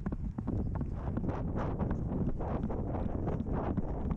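Strong wind gusts rumble across the microphone outdoors during a working dog field trial, steady and loud throughout the clip.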